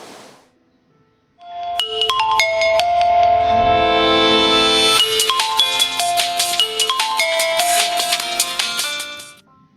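A phone ringtone plays loudly and steadily for about eight seconds with a repeating melodic pattern after a call is placed, following a moment of near silence, with no talking over it.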